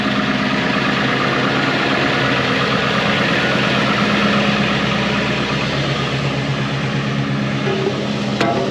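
1999 Ford F250 with a 7.3 diesel, plow mounted and a straight pipe exhaust, sitting at high idle: a steady, loud, low rumbling drone close by, with no talking.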